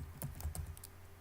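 Keywords typed on a computer keyboard, a quick run of soft, close keystroke clicks in an uneven rhythm, with no talking.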